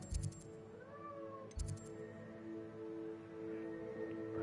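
A pet cat named Neil meows near a door, wanting to be let outside; two short, sharp cries come close together near the start, with another about a second and a half later, over steady low background hum.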